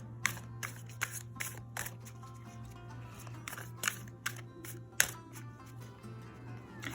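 Tarot cards are shuffled in a string of quick, crisp riffles and slaps, irregularly spaced over a low steady hum, with no talking.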